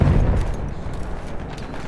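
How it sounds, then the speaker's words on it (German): A grenade goes off in the Battlefield 1 video game, a heavy rumbling boom with dense low-end roar that decays over about two seconds amid scattered crackles of battle. "Ich werfe eine Granate!"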